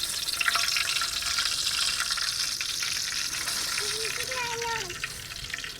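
Curry leaves frying in coconut oil in a pan for Kerala beef fry, a steady broadband sizzle filling the clip, close and fairly loud, with faint brief tonal chirps near the end.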